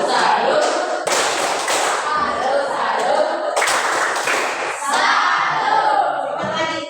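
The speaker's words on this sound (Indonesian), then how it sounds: "mari kita tepuk tangan untuk kita tepuk salut, tepuk salut" A school class claps out a rhythmic 'tepuk salut' pattern, bursts of hand claps and thumps that come in groups, mixed with children's voices chanting along.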